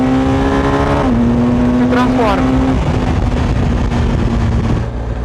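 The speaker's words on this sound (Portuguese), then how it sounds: "Vou baixar uma marcha. Vou dar uma acelerada." A BMW R 1250 GS motorcycle in Dynamic mode drops a gear and accelerates hard, its engine note rising loud and close through a strong rev sweep before settling to a steady drone, with someone talking briefly over it.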